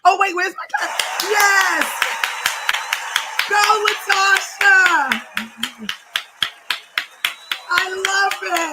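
Sharp clapping and finger-snap hits come in a quick, irregular run and then settle into a steady rhythmic beat. An animated voice talks over the first part.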